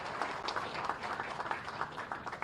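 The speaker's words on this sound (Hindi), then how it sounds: "जोरदार तालियों से आप स्वागत करें" Steady applause from a crowd at a national highway project foundation-stone ceremony in Udaipur, a dense patter of clapping that holds at an even level throughout.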